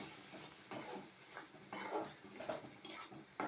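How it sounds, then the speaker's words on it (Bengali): Ground cumin and coriander spice mix being stirred in a pan, with quiet scraping and clinking of a utensil against metal in irregular strokes, faint and close, with no talking. "এতে এখন আমি এই যে একটু জিরের গুঁড়ো আর একটু ধনের গুঁড়ো দিয়ে দিলাম দিয়ে আবার একটু মশলাটা আমি ভালো করে নেড়ে নেব"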